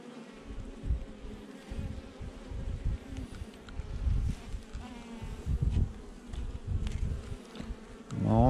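Dense, steady buzzing of a honeybee swarm close by, a continuous drone of many wings with surges and dips in loudness, no voices.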